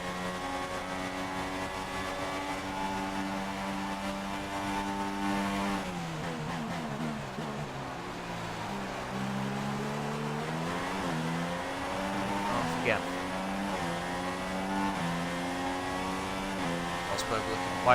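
Formula 1 cars roar in F1 2016 as the Bahrain race gets underway, with a close engine whine rising and falling through gear changes. The engine note holds steady and loud for the whole stretch.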